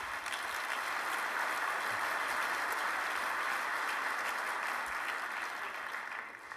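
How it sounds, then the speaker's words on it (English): Sustained audience applause at a Qonnections 2017 tech keynote, a dense, steady wash of many hands clapping for several seconds before easing slightly at the end. "Now you can applaud."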